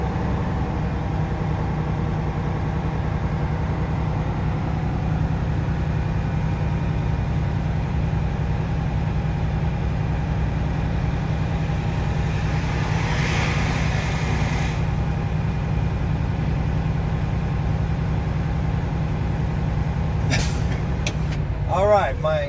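Truck diesel engine revved at a steady raised RPM, a constant droning hum with a whining tone, followed near the end by a few sharp bursts of released air as the air governor cuts off.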